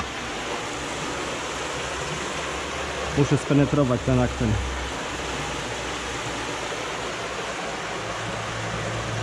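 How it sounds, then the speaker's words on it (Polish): A small river spills over a little cascade near a beaver dam at dusk, giving a steady, close rushing murmur of water throughout, while someone speaks briefly partway through. "Woda szemrzy."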